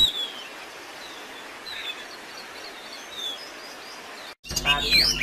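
A kacer, or magpie robin, sings in short, faint, scattered chirps and whistles over a quiet hiss, followed at the end by a louder burst of sharp notes.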